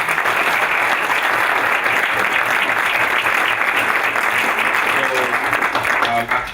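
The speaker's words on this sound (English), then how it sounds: "to give Central another round of applause" Sustained applause from a school board meeting audience, dense and steady throughout, tapering slightly at the very end.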